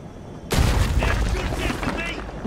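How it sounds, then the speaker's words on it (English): A sudden, loud explosion erupts in Red Dead Redemption 2, then holds as a dense, rumbling roar that slowly fades, with a faint voice beneath it. "Just heard a giant explosion."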